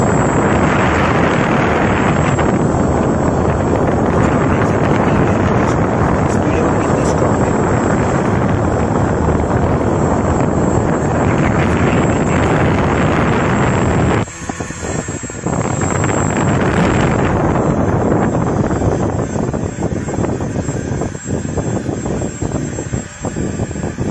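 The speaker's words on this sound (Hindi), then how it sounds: "आपको हवा की आवाज आ रही होगी।" Steady broadband rush of air from a homemade wall fan driven by a brushless motor, running at low throttle; loud, continuous whooshing, close to the microphone, with a brief dip midway.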